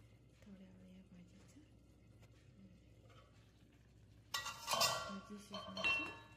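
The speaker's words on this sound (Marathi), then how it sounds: "झाकण ठेवून गॅस बंद करू" A metal lid clanks onto a cooking pan of dill greens with a bright rattling clatter near the end, preceded by quiet kitchen sounds and faint speech.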